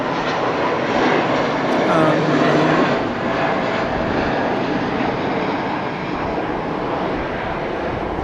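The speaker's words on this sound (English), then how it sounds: "So the Spirit plane, you may be able to hear it taking off." A Spirit Airlines jet takes off at Los Angeles International Airport with a steady, broad engine roar heard from a distance that holds for several seconds. Voices can be faintly heard under it.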